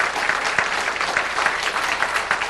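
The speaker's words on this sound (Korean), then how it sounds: "우리 크게 다시 한번 격려 박수." A church congregation applauds during a New Year revival evening service, steady clapping from many hands at close range, with no voices over it.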